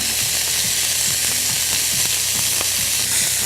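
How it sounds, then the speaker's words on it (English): Australian pork mince meatballs fry in a pan with a steady, close broadband sizzle, broken by scattered clicks and scrapes as they are turned, with no talk over it. "make sure that the meatballs are browned well on all sides"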